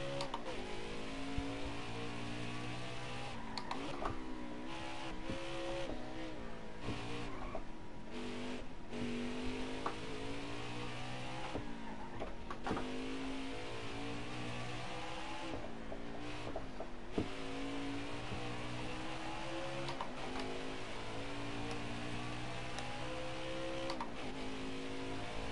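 A NASCAR race car engine in the NASCAR Heat 4 video game drones loud and steady through a qualifying lap, its pitch climbing and falling with gear shifts and braking into corners.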